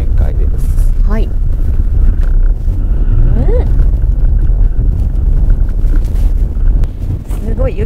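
A Subaru Legacy slides across a snowy surface, kicking up snow, with a steady broadband roar and rumble of driving and wind noise throughout. Someone talks over it.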